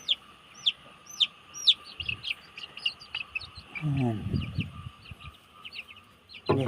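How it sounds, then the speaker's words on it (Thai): Chickens cluck and chirp in a rural yard during a flood, with sharp repeated calls over a steady insect-like hum and a burst of lower rustling noise midway. "ไก่"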